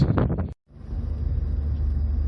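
A 2005 Honda Accord CL9 2.4 Executive with a manual gearbox pulls away in the wind. A brief clatter and a moment of silence give way to a steady low engine and road rumble from inside the car.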